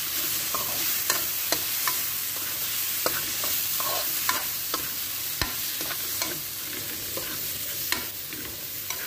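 Spices and stock cubes stirred in a sizzling frying pan for creamy shrimp, a steady crackle running under repeated sharp scrapes and taps of the spoon, close and fairly loud.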